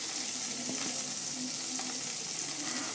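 Cumin powder and asafoetida sizzle in hot oil in a kadai for kadai paneer, a steady close crackle and hiss with faint stirring clinks.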